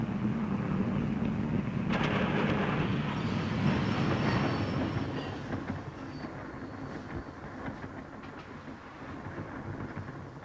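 Moving train in a 1938 film, its steady rumbling rattle of wheels on rails filling the scene, louder and fuller at first before easing into a lower, continuous clatter, with no voices heard.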